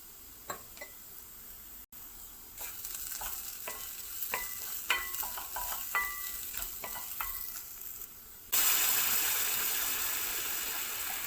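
Stirring and sautéing lentil soup ingredients in a pot: scattered scrapes and clinks over a steady sizzle that swells into a loud, bright hiss near the end.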